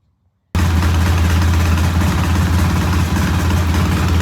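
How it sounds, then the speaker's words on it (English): A Norton motorcycle engine runs on choke after a cold start, starting abruptly and then holding a loud, steady, low throbbing idle with close, even firing pulses throughout. "We've got the bike started on choke."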